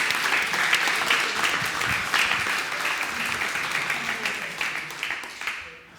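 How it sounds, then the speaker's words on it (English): Hearty audience applause during a hands-on modern JavaScript session at a developer days event, a thick, continuous rain of clapping with scattered louder claps and faint voices underneath, tapering off near the end. "Big applause"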